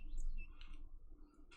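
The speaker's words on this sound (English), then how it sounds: "You open your eyes to be greeted by the same bird chirping outside." A video game sound effect of a bird chirping outside plays as a few faint, scattered tweets over a low background hum, with no speech.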